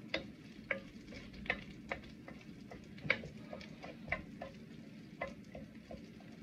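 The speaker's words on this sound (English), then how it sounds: "our green cardamoms are starting to puff up a little bit" Green cardamom pods fry in hot oil, with a steady low sizzle and scattered small sharp pops and ticks spaced irregularly throughout, close and fairly quiet.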